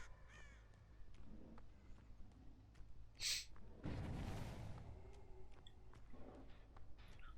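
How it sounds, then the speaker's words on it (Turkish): A crow caws in Dead by Daylight, a sharp single call standing out from a quiet, sparse ambience followed by a soft rushing flutter, with scattered faint clicks around it. "Minik kuşa bak"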